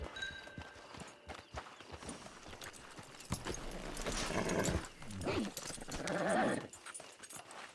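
Horse hooves clip-clop in the Red Dead Online video game, a steady run of hoofbeats mixed with game music, ambience and character voices speaking over them.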